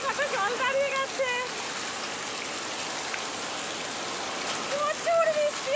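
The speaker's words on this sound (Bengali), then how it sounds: "প্রচুর বৃষ্টি হচ্ছে, প্রচুর।" Heavy monsoon rain drumming on a tin roof and pooling water, a steady dense hiss throughout with voices speaking over it.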